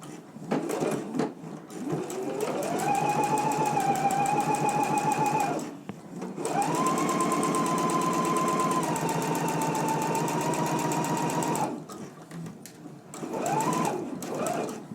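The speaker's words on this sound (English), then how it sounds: "we can go ahead and stitch them at a 5/8 of an inch seam allowance" A home sewing machine runs in two long bursts while stitching the side seams of a Simplicity 9268 top at a 5/8-inch seam allowance, with short pauses and a quick restart at the end; a voice is heard softly in between.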